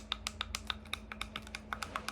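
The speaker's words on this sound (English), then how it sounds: "I don't think these will pass as anything close to Maxes with these buttons that sound like this." Rapid clicking of the cheap plastic buttons on counterfeit AirPods Max headphones bought from Temu, a quick run of sharp, light taps close by and fairly quiet, with no talking.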